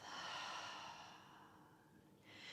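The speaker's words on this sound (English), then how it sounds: "Exhale out the mouth." A long breath exhaled out through the mouth during a yoga practice, a soft breathy airflow up close that fades, followed by a second shorter breath.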